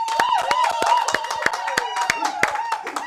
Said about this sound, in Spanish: Aplauso, vamos.